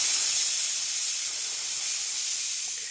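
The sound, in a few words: pressure cooker whistling and releasing steam on gas stove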